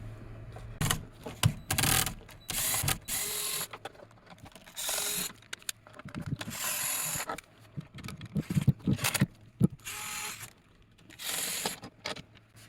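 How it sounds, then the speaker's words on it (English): Screws being removed from the plate of a Highend Solaframe 2000 light fixture, heard as close, irregular bursts of metallic ratcheting and clicking with short pauses between turns. "you're going to take out this 5 screws here."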